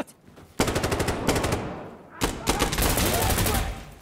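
Rapid bursts of automatic gunfire ring out in a tactical first-person shooter game, loud and close, with two long stretches of fast repeated shots separated by a short pause.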